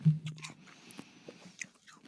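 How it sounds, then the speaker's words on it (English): Carrot being bitten and chewed up close, a sharp crunch at the start followed by softer crunchy chewing sounds. "we could crunch a carrot"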